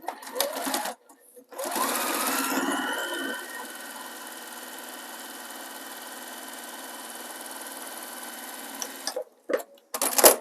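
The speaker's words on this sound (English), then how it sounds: "run a stitch along my line that I marked" A sewing machine runs a line of stitching along a marked line on a fabric cover, a steady whirring motor with rapid needle chatter lasting several seconds, preceded and followed by brief handling noises and clicks.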